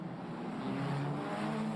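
A Formula Regional European Championship race car at the Monaco Monte Carlo circuit drops revs while braking toward the Nouvelle chicane, a faint, distant engine note falling in pitch beneath a steady broadcast hum.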